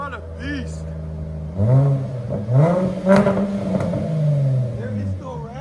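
A 2017-2020 Jaguar F-Pace 3.0L supercharged V6 exhaust is revved several times up close, each blip rising and falling over a throaty idle, while someone talks over it.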